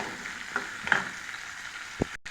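Onions and tomatoes with tamarind sautéing in a pan for tomato chutney, a soft steady frying hiss punctuated by a few light clinks and a stir, close by and fairly quiet.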